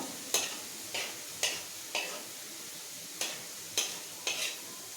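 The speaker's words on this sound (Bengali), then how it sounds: "তেলের মধ্যে সবজিগুলো দিয়ে দিয়েছি। সবজিটা এখন ভেজে নেব।" Vegetables for egg chowmein sizzle in hot oil, with a steady faint hiss broken by a few sharp bursts as a spatula stirs them.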